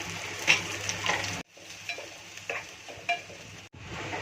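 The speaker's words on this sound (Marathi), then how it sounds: "लसूण चांगली लाल झाली की कांदा घालायचा" Garlic, curry leaves and onion fry in hot oil for a homemade amti tempering, a steady close sizzle with stirring scrapes and a few pan knocks, with no talking.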